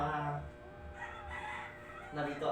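A rooster crows, faint and somewhat distant, with a drawn-out call that rises and falls, followed by the start of another crow.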